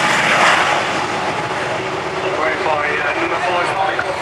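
A Sentinel aircraft flies past at the RAF Waddington airshow, its engine roar loud and steady throughout, with faint crowd voices under it.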